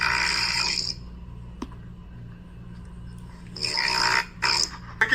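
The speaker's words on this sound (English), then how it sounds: "That's straight up testosterone snoring." A person snores loudly and harshly in two long, rasping breaths at the start and end, with a quiet pause between, close to the listener and heard alone over a faint steady hum.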